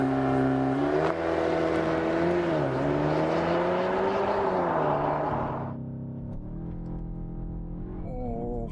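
A Cupra Formentor Cup Racing Edition revs hard through its gears, the loud engine note rising steadily for about five seconds, then easing off to a quieter rumble and a brief climb again.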